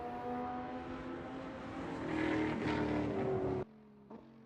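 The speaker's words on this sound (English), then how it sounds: "it sounds like one of the cars a little bit off pace" A race car at speed on the Watkins Glen circuit during a Hoosier Super Tour event, its engine droning loudly and rising in pitch before cutting off abruptly, followed by a faint distant engine note.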